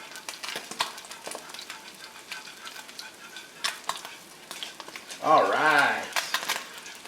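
Bronzini fillets sizzle crisply in a hot pan as creamy polenta is stirred nearby, soft scraping and a faint sizzle with a brief louder burst of frying, under a voice speaking.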